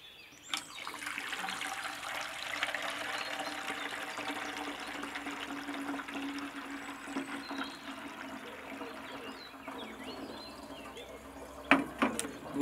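Water poured steadily into a graduated measuring container, a close, continuous splashing pour lasting most of the stretch, then fading, followed by a couple of sharp knocks of the container near the end.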